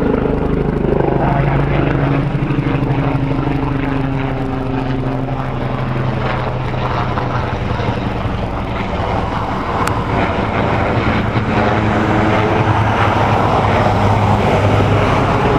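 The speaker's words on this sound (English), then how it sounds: "Got the choppers coming in." Rotor and engine drone of helicopters passing overhead in Queens, a loud steady throb with pitch shifting as they approach and move on.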